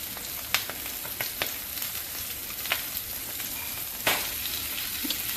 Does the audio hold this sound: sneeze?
no